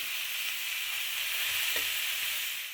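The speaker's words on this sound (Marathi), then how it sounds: "मी एक दोन मिनिट छान असं परतून घेणार ते तेल मी एकदम एकदम थोडंसं घातलेलं आहे" Carrots, beans, peas and peanuts sauté in a little oil, giving a steady, even sizzle with a faint scrape of stirring partway through and no voices.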